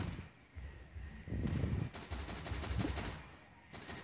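Machine gun fire from the zombie shooter video game Unkilled rattles in rapid repeated bursts with short pauses, loud and continuous over a background of game noise.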